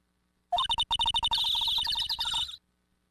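Video game birdsong: a quick run of sharp, repeated chirps flowing into a steady bright trill for about two seconds, clear and close with nothing else around it.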